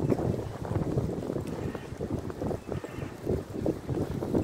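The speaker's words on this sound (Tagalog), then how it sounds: "Ay mahangin guys," Steady cold autumn wind in Vienna's Stadtpark buffets the microphone with a rumbling, gusty roar that rises and falls throughout.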